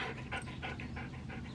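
A dog with allergies pants close by in quick, steady, rhythmic breaths.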